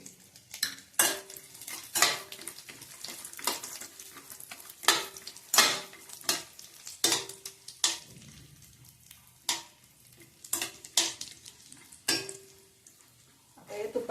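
Cashews roasting in a pan for jaggery coconut peanut ladoo, a spoon scraping and clinking against the pan in a steady irregular rhythm over a soft dry sizzle, close and clear.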